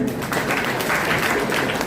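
Brief, dense applause fills a memorial service gathering, with many hands clapping together in a close, continuous burst.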